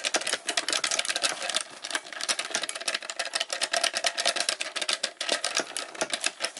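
Rapid, dense clicking of buttons on a PowerA Fusion wireless arcade stick, a fast continuous clatter of sharp taps lasting several seconds, close and fairly loud with no talking.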